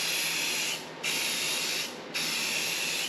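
Primer sprays from an aerosol can onto an engine timing cover in three close, loud hissing bursts, each about a second long, separated by brief pauses.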